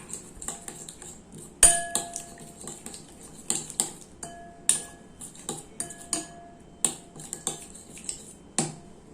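A spoon clinks against a bowl as snack ingredients are mixed with salt and coconut oil, giving irregular sharp taps and scrapes close by, with quiet gaps between strokes and no talking.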